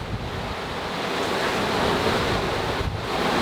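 Strong wind roars steadily over a sailboat under way, with waves rushing and surging against the hull. The broad, continuous wash sits close and loud, buffeting the microphone, and no one speaks.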